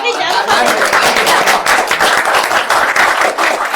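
An audience at a Peronist philosophy talk claps loudly and steadily throughout, with murmured chatter and light laughter mixed in.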